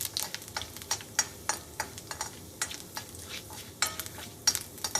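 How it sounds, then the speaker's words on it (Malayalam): Chopped ginger frying in a pan for a Kerala chickpea sundal, with a steady sizzle and a series of sharp scraping clicks as a spoon stirs it. The stirring strikes come at an uneven rhythm and sound close by. "ആ ഇഞ്ചി ഒന്ന് നന്നായിട്ട് മൊരിയുന്ന രീതിയിൽ ഒന്ന് വറുത്തെടുക്കാം"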